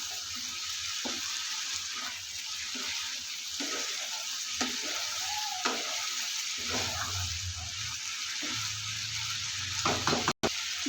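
Ghugni, a peas curry, is sautéed in a pan, with a steady close sizzle and irregular stirring scrapes and knocks, fairly quiet, ending in a sharp brief clatter near the close.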